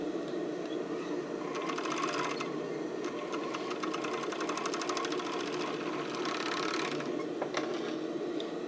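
A sewing machine stitches the waistband onto a Porcelynne Laurel sports bra in rapid, rattling bursts, a short run, then a long steady stretch and a final brief spurt, with short pauses between, heard up close.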